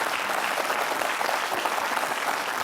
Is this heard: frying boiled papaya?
no